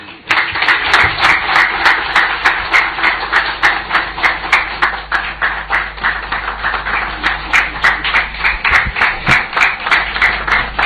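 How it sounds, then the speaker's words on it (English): Sustained, loud applause from an audience at a swearing-in ceremony for a presidential economic advisory group, dense clapping running steadily throughout. "Shall we please give Her Excellency another big round of applause?"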